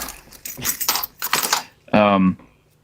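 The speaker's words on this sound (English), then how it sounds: "actually, this is my car keys" A bunch of car keys jangles in a short metallic rattle right after a stretch of talking, close and fairly loud.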